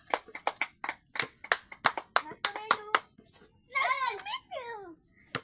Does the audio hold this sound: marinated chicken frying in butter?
no